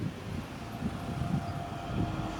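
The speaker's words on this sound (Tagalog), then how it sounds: "Adi, drone dark suspense." A dark, brooding suspense drone used as a sound effect: a steady low rumble with a faint sustained hum above it, holding at an even level throughout with no voices.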